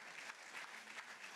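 An audience applauding Jacques de Larosière at a conference, a steady dense patter of clapping heard from a distance and fairly faint.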